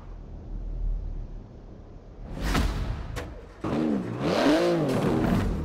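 A bus engine in Forza Horizon 4 starts after a quiet stretch, then revs in rising and falling surges that grow louder toward the end, with no talking over it.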